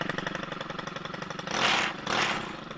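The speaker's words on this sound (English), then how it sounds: "crank this weed eater up and just throw, like, slow throttle it over the fence post" A Stihl FS90R weed eater runs at slow throttle beside a fence post, its engine buzzing steadily up close, then surging louder in two brief bursts as the string line hits.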